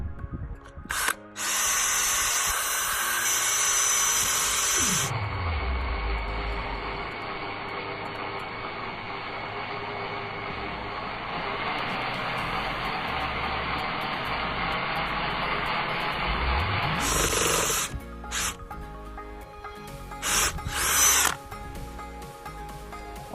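A power drill bores into an iPhone: a loud, steady high whine runs for about twelve seconds between spin-ups and wind-downs, followed by several short, sharp bursts near the end.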